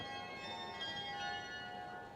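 Church bells in Gouda play a tune, heard as a steady sustained ringing with overlapping tones, at moderate distance and with no voices.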